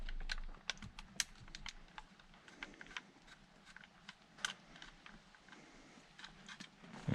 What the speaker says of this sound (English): Gonna remove these screws.